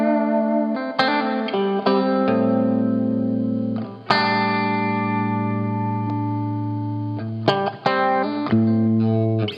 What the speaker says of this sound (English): there's the guitar.